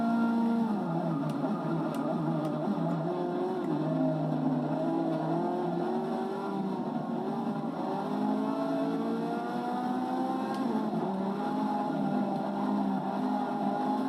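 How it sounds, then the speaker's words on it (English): A Ferrari race car in Forza Motorsport 6 at Catalunya drives hard, its engine a continuous, sustained whine with shifting pitch as it slides about, steady and close throughout. "this Ferrari is not easy to drive. Like, I'm skidding all over the place"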